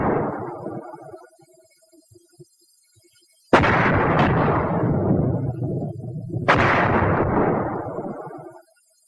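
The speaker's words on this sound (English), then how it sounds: "an exploding mortar shell can kill" Mortar shell explosions: a blast fading away, a quiet gap, then two loud, close detonations a few seconds apart, each with a long rumbling tail, and no voices.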